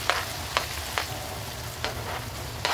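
Garlic and onion fry in butter in a pan for chilli oil, making a constant close sizzle punctuated by five soft scraping stir strokes, no voices.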